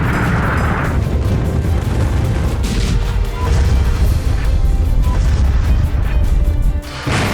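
Heavy blasts from the war in Ukraine boom and roll continuously in a dense, loud roar with crashing bursts and no clear gaps, and no voices over them.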